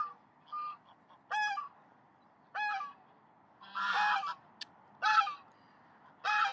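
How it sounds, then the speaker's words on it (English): Geese honking nearby at dusk by a lake, a series of separate loud calls, some doubled, spaced irregularly with quiet gaps between them. "got all the noisy geese have come now"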